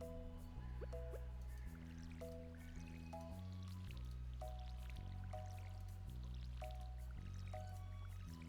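Soft repeated splashing drips from a watering can onto crops in the farming video game Stardew Valley, heard throughout beneath steady, melodic in-game background music.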